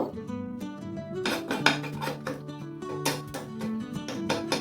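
Metal spoon clinking and scraping against a pan and containers while milk powder and ghee go into a peanut mixture for peanut laddu, a series of close, bright ringing taps and clatters.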